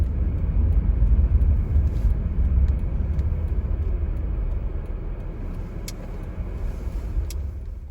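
A car drives along a downtown street, a steady low road rumble from inside the vehicle with a few faint clicks, continuous throughout.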